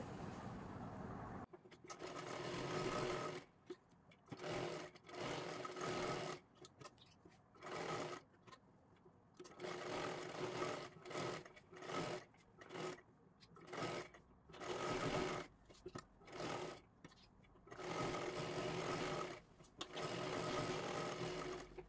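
A sewing machine stitches a blouse neckline in repeated short bursts, each run of whirring separated by brief pauses.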